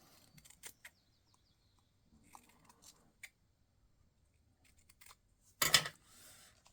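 Scissors snip paper during card making, a few quiet cuts followed by one louder, sharper snip near the end, close and alone in a quiet room.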